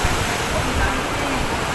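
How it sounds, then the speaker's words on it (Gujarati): A waterfall pours at a Khodiyar Mata temple in Gir Somnath, making a steady, dense roar of falling water that is close and loud, with voices mixed in. "માં સામે ધોધ પડે છે"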